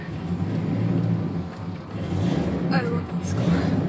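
A steady low engine hum drones throughout, with a person talking over the idling car.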